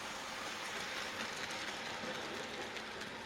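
A model railway coal train loaded with real coal runs along the track in a loft layout, a faint, steady rolling rumble with light rhythmic clicking, continuous and unaccompanied by speech.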